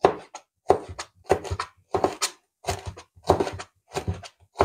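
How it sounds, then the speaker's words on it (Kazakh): Knife cuts diagonally through crisp bell pepper in a steady series of sharp crunchy slices, each followed by a board tap, close and distinct. "Енді мына бұрышымызды турап аламыз."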